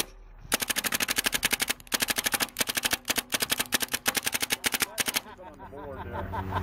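A paintball battlebot fires paintballs in rapid bursts of loud, sharp pops in a fast machine-gun rhythm, with brief pauses between bursts, then stops, leaving a rising mechanical hum.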